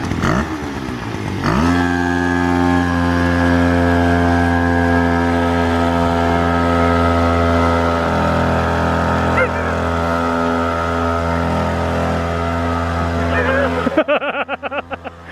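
A small engine is kicked off and revved, starting with sputtering, then holding a loud, steady buzzing drone for about twelve seconds before cutting out and fading into irregular putters.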